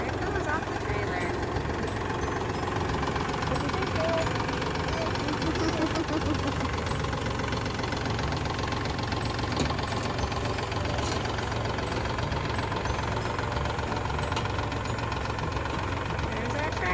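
A tractor engine idles in a steady low, knocking rumble as it is unloaded off a trailer outdoors, with constant mid-distance engine noise and people talking over it.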